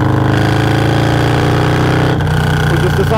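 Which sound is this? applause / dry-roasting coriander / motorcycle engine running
motorcycle engine running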